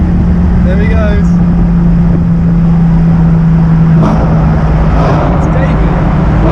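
Nissan 350Z with a loud custom exhaust in a tunnel, a steady booming engine drone with a held low tone that swells and shifts as revs change, echoing around, with voices underneath.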